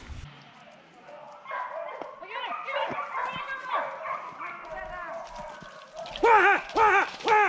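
Greyhounds bark and yip during an outdoor hare and rabbit hunt in a repeated run of calls. The barking grows louder and sharper toward the end, with voices and field noise behind it.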